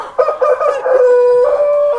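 A cockerel crows once on a farm, close and loud, a hoarse drawn-out call with a rough, slightly croaky tone.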